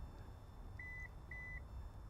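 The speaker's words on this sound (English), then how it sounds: "then you hold this button down until it beeps" Kia Telluride power rear liftgate beeps twice to confirm a set height, two short clear electronic tones about half a second apart over a quiet outdoor hum.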